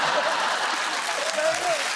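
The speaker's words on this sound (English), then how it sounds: "Don't applaud that, Tiny" Studio audience applause fills the whole stretch at a steady level on a chat show, with a voice speaking faintly over it.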